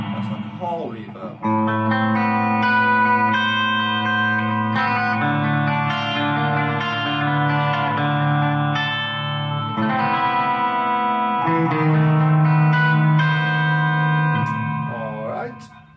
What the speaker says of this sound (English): That's like a hall reverb.